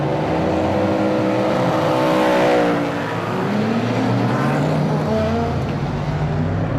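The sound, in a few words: GT race cars starting final race on wet Assen track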